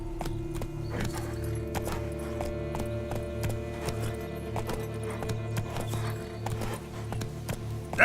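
Roach, the horse in The Witcher 3: Blood and Wine, trots along with a steady, even clip-clop of hooves, moderately close, over a low ambient drone, with a brief snort or whinny at the very end.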